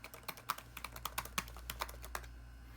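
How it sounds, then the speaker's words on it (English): Typing on the butterfly keyboard of a 2017 MacBook Pro without Touch Bar: a quiet string of crisp, shallow key clicks in an uneven rhythm, close and alone over faint background hum. "So here's the keyboard, the new butterfly keyboard."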